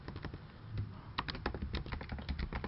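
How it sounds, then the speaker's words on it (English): Typing an email address on a computer keyboard, a quick irregular run of light key clicks, close and fairly quiet, with no talk. "just type in your email address right here"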